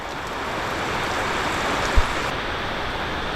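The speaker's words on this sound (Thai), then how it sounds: "ฝนตกอีก" Heavy rain in a rural Thai fishing setting, a steady dense broadband hiss that stays loud and even throughout, with one brief low thump near the middle.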